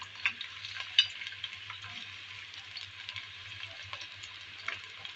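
Mutton browning in oil in a pot with onions for pakwan biryani, a steady soft sizzle with faint scattered ticks, fairly quiet and continuous with no talk.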